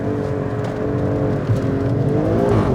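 An Alfa Romeo Stelvio Quadrifoglio engine drops a gear into a hairpin, a loud, steady close-up drone with rising and falling engine tones and no talking.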